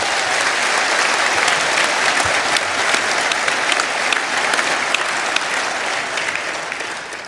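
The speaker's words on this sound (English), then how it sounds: "you deserve a round of applause" A large crowd at a Brexit Party political rally in Peterborough breaks into loud, sustained applause that fills the hall without pause.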